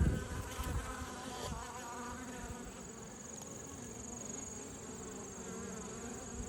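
Honeybees and drones buzz at the entrance of a weathered wooden beehive box, a close, steady swarm hum with a few individual insects passing near.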